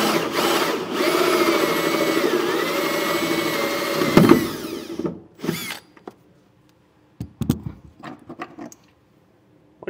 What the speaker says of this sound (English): I'm going to use a hole saw, just a little bit bigger than the diameter of the end of our two, to drill through there